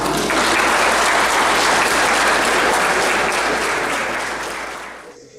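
Loud, dense applause from a lecture audience, sustained clapping that fills the space for several seconds before fading away at the end.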